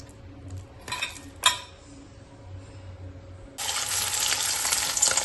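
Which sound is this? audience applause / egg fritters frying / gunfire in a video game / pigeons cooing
egg fritters frying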